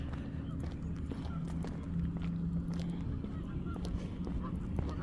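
Geese at a pond honk faintly and repeatedly at a distance beneath a low, steady background rumble, with scattered short calls and no clear talking.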